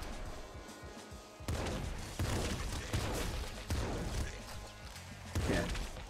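Shotgun blasts in the Nuclear Throne roguelike fire in a steady series of about six punchy, crunchy booms, roughly one every second, at moderate loudness.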